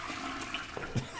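A toilet flushing in the game Perception, a steady rushing wash of water heard alone, with a brief gurgle near the end.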